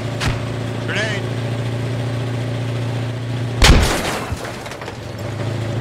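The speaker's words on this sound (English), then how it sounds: "Grenade!" A grenade goes off in the Squad video game on a palace-themed map, a single sharp booming blast over a steady engine-like rumble, with a brief voice earlier.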